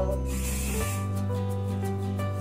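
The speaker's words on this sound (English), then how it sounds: "I'm using my Hair Treats Hairstyle Stronghold Hairspray." A can of Hair Treats Stronghold hairspray sprays in a loud close hissing burst over steady background music, cutting off abruptly partway through.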